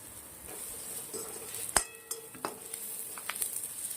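Masala spices, turmeric and ground coriander-cumin, roast in a pan for Afghani baingan masala, with a soft steady sizzle under scraping spoon strokes and a few sharp metallic clinks of utensil against pan.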